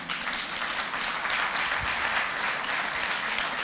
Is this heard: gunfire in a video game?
no